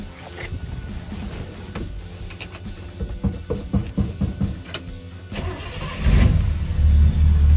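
A 1966 Buick Wildcat, its fuel system just repaired, drives on a test run, its engine idling with uneven low chugs and clunks before the V8 swells into a loud, deep rev near the end.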